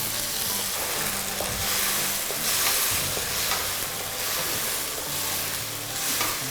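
Kung Pao chicken with cornflour and stock sizzles and is tossed in a pan over high flame, a loud continuous frying hiss with soft stirring scrapes throughout.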